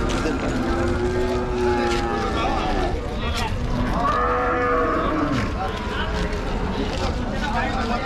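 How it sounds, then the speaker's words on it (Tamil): A large cow at a cattle market lets out long, deep, wavering moos, loud and close, against busy market background noise with people talking nearby. "பெரிய சைஸ் மாடு"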